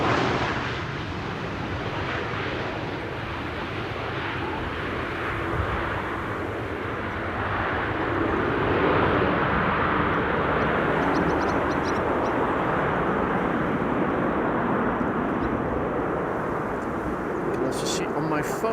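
Narrow-body jet airliners on approach to Amsterdam Schiphol Airport, a steady broadband engine roar filling the whole stretch at moderate distance, swelling slightly midway, with talk over it.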